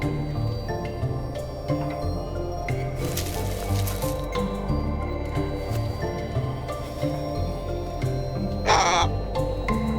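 Crow cawing in the point-and-click game The Inner World, a single harsh call standing out near the end over steady game music and ambience.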